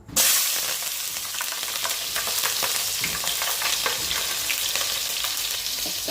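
Onions and green chillies fry in hot oil with a steady, loud sizzle that runs without a break, broken only by faint crackles and no talking.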